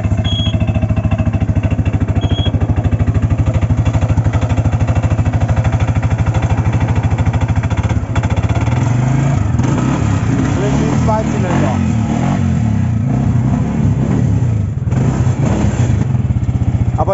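A 28 hp buggy engine in Side, Turkey, starts up and idles loudly with a rough, rhythmic throb. The sound shifts and rises partway through, and people talk over the running motor.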